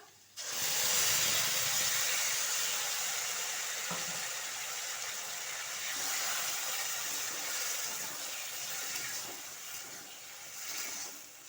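Ground spice paste dropped into a pan of fried potatoes bursts into a loud hissing sizzle that holds steady for several seconds before easing slightly, close and with no voices.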